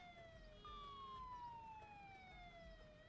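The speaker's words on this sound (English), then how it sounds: "There's the ambulance." Ambulance siren in Goat Simulator 3, a steady falling electronic wail sweeping down in pitch, moderately loud over low game rumble.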